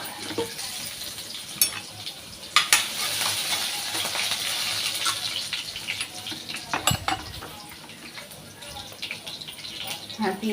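Mustard seeds, cumin and crushed garlic sizzling in hot oil while a Marathi lentil and colocasia-leaf dish is cooked; a steady broadband hiss runs throughout with occasional sharp pops and utensil clinks, under light talk.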